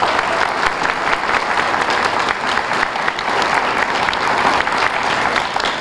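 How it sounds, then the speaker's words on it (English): An audience at a nursing school pinning ceremony applauds steadily for several seconds, with dense, even clapping from many hands filling the hall. "Let's give them a round of applause."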